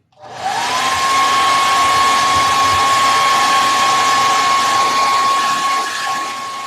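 A hair dryer blows steadily on a layer of paint, a loud continuous whooshing roar with a high whine that holds for about six seconds and eases off slightly at the end.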